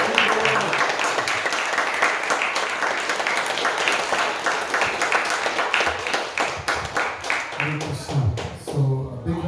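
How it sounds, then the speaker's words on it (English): A crowd applauds after a devotional-service presentation, dense clapping sustained and fairly loud throughout, thinning toward the end as a few voices come through. "a big round of applause again"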